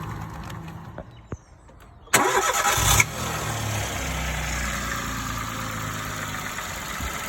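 A CityBug car with a diesel engine flush in its oil cranks briefly after a few faint clicks, catches and settles into a steady, moderately loud idle.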